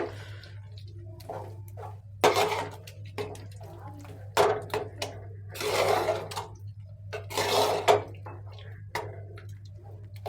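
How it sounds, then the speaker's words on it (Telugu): A spoon stirs milk into pumpkin halwa in a pan, giving intermittent wet scraping and squishing strokes in irregular bursts over a steady low hum, close by and moderately loud. "పాలు పోసాము కదా ఒకసారి బాగా కలుపుకున్నాము"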